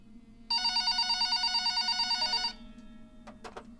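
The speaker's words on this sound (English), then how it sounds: "About an hour later, the phone on the counter rang." An old-style telephone bell rings in one continuous two-second burst over a low background hum, then stops, leaving faint clicks and rustles.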